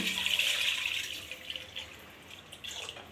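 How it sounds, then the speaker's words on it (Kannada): Water pours steadily into a pot for about a second, then tapers into a few scattered drips and small splashes, close and fairly quiet. "ಅದಕ್ಕೆ 6 ಲೋಟ ನೀರು ಹಾಕ್ತಾ ಇದ್ದೀನಿ."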